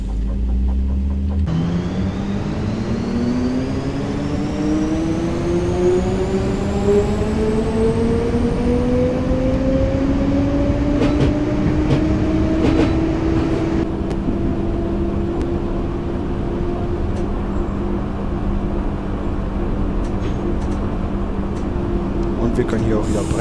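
An ÖBB 4020 electric multiple unit pulls away in Train Simulator 2019, its motor tone rising steadily in pitch as it gathers speed, with a continuous low rumble and occasional clicks throughout.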